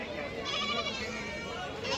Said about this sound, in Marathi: मालेगावचा जो शेळीचा जो बाजार आहे मित्रांनो, हा खूप मोठा असा बाजार आहे